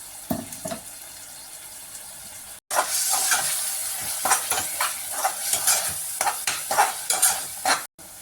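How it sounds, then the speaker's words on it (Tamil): Coriander and mint for mushroom biryani are sautéed in a hot pan, a crackling sizzle broken by repeated scraping and stirring strokes, close and fairly loud. "இதோட பச்சை வாசனை போகிற வரைக்கும் வதக்கி விட்டுக்கலாம்"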